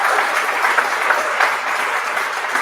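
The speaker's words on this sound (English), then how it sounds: "let's give him a round of applause" Steady, moderately loud applause from the audience at a live business wrap show, a continuous wash of clapping with no voice standing out over it.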